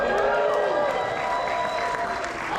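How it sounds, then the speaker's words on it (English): Audience applause at a convention panel at Fan Expo Dallas, a steady wash of clapping with some cheering from a crowd, filling the room continuously. "Big round of applause, everybody"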